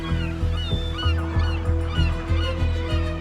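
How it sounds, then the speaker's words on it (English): Gulls call close by in loud, rhythmic honking cries repeated every half second or so, with faint higher calls behind. "Given half a chance, these gulls will graduate from thief to killer"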